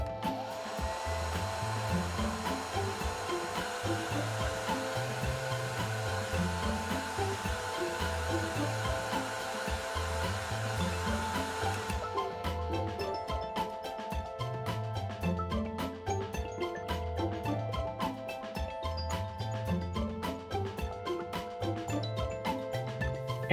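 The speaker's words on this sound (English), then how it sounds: "Put it on low pressure and spray the sea salt into the air, blowing it into the hair with the blow dryer." A hair dryer on its low setting blows steadily and close by while sea salt spray is worked into curly hair, its drone running throughout and shifting in tone about halfway through.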